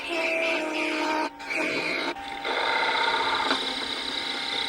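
Wood lathe spinning a turned ornament while a tool sizes its tenon: a steady, continuous high whirring and scraping hum, close and fairly loud, with two brief dips as the cut eases off.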